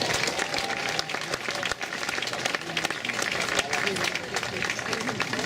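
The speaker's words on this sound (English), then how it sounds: "Big round of applause for all of our inductees" Crowd applause at an outdoor Hermosa Beach Surfers Walk of Fame ceremony honoring surf inductees, sustained dense clapping throughout, with some voices and cheering mixed in.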